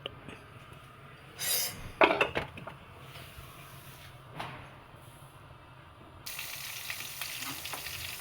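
Coconut oil frying in a pan, a soft steady sizzle with a few louder clinks and scrapes early on, then the hiss swelling brighter and steadier toward the end; no speech.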